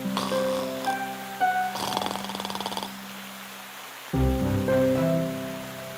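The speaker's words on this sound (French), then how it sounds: "Il ronflait si fort qu'il en faisait trembler les branches." A wolf asleep under a tree snores loudly in long, rumbling, buzzy breaths, a sustained droning snore, a brief pause, then another heavy snore starting up.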